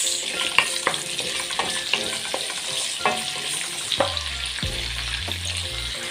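Garlic and onion frying in a pan for a Filipino chicken and chicken liver dish, a constant sizzle broken by sharp scrapes and clinks of a spatula stirring against the pan, with a low rumble toward the end.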